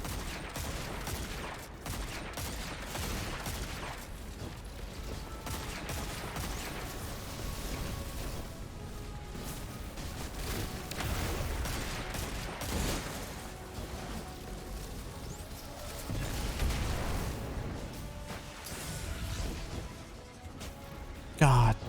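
Dense, continuous gunfire from the video game Destiny 2, a long loud barrage of rapid shots with bursts and impacts layered throughout, with a voice talking over parts of it.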